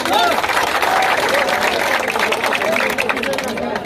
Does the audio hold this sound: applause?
yes